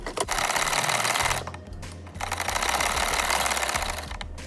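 A sewing machine stitching kurta fabric runs in fast, steady, close bursts of rattling motor whir, easing briefly in the middle before speeding up again.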